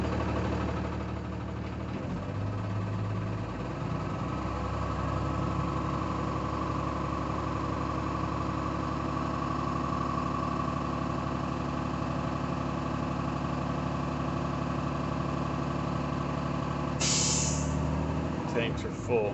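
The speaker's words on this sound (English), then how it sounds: "I'm going to start the bus. Pressure in the tanks is going to build to a cutout between 120 and 125." A school bus diesel engine idles steadily while its air compressor builds pressure in the brake tanks, a continuous low throbbing drone with a sharp hiss of air release near the end, under talk.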